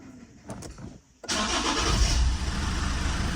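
Lexus IS220D diesel engine cranking briefly after a fuel filter change, then catching and settling into a loud, steady idle.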